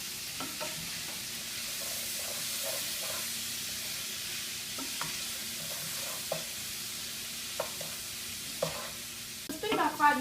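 Vegetables seasoned with Cajun spices sizzle steadily in a pan while a utensil stirs them, making regular scraping strokes over the hiss, with a louder clatter at the end and no talking.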